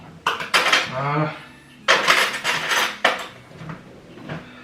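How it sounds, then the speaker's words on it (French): Dishes and cutlery being unloaded from a household dishwasher, a few close clinks and clatters of crockery and silverware in short bursts with gaps between. "C'est bon, la vaisselle est vidée, je vais pouvoir le re-remplir."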